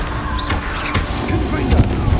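A Confringo spell explosion in the game Hogwarts Legacy lands as a loud, booming blast, followed by a couple of short crackling bursts over a dense, rumbling game soundscape.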